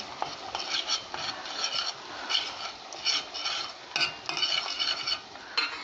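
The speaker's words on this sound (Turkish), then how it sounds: "Şimdi kendi yaptığım lor peynirimi kavuracağım" Homemade lor cheese being sautéed with pepper paste in a pan: a spoon scrapes and clinks against the pan in uneven strokes over a light sizzle, close and busy, with no voices.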